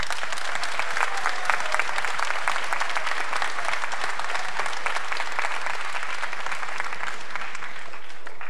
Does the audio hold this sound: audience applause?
yes